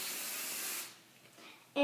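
Hairspray hissing from a can onto teased cheer-style hair, a steady close spray that cuts off after under a second and leaves quiet room noise.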